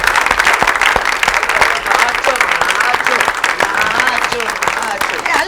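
A studio audience gives Mehmood Akhtar a steady, loud round of applause, many hands clapping densely and evenly throughout.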